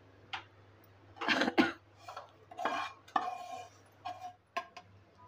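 Roasted semolina flour for fasting ladoos is scraped from a hot pan into a wide plate, with several scattered metallic scrapes and clinks near the mic over a low steady hum.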